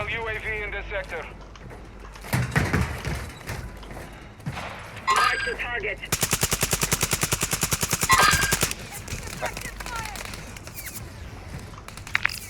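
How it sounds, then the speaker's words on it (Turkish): Automatic gunfire in Warzone 2.0 on Ashika Island: a few scattered shots, then a long rapid machine-gun burst of evenly spaced rounds, loud and close, with players talking over it. "Soldan vuruyor herif ya."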